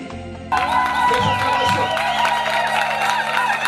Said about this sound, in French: Alors ici, les acclamations pour le Seigneur Jésus-Christ.